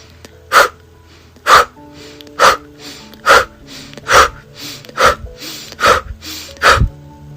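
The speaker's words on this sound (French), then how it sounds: "Il faut vraiment casser le ventre, forcer l'air à monter et à sortir." Forceful breathwork exhalations, air pushed out hard from the belly: eight sharp, loud bursts of breath at a steady rhythm, roughly one per second, with quiet gaps between, close to the microphone.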